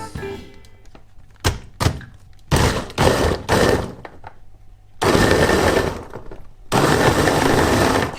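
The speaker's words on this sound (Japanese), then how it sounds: "今からこれでミキサーにかけていきたいと思います" Kitchen blender blending a ginger lemon shot with about 410 ml of water, beginning with a few separate thunks and short bursts, then two long, loud whirring runs close by, with a brief pause between them.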